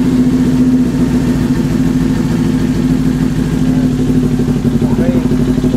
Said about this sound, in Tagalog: Una start na natin tong motor.